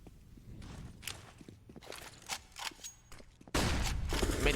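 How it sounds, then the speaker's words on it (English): A scout sniper rifle firing in a Counter-Strike match on Mirage, sharp cracks scattered among quick footsteps and other gunfire, ending in a sudden, loud, sustained burst of noise. "Floppy will start things off with a good scout shot at the very least"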